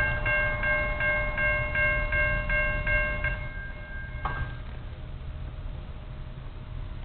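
An Amtrak passenger train sounds a long multi-tone horn in repeated blasts, then rumbles steadily past at close range, with wheel noise continuing after the horn stops.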